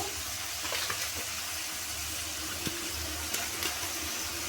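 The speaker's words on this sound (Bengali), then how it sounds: "আমি মাংসটাকে ভালোভাবে কষিয়ে নিচ্ছি। আমি ওপর থেকে একটু কাসুরি মেথি ছড়িয়ে দেবো।" Chicken masala with a sprinkle of kasuri methi fries in a pan: a soft, low sizzle with occasional light scrapes and taps from stirring, quiet and close.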